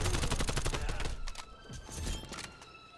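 Dense, loud gunfire in Call of Duty Black Ops Cold War, a Kill Confirmed match on the Crossroads Strike map with an AK-74: rapid overlapping shots and booming impacts that ease off slightly partway through, with faint voices underneath.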